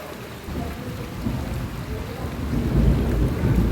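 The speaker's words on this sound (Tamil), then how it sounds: "இடி சத்தம் உங்களுக்கு கேட்குதா?" Heavy rain pours steadily during a windy storm, with low rumbling thunder swelling underneath and growing louder toward the end, no voices present.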